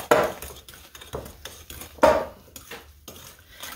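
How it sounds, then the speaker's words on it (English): Spoon stirring rhubarb cake batter in a bowl, close clinks and scrapes against the bowl in an uneven rhythm, with two louder knocks, no voices. "So I'm going to just go ahead and stir this up."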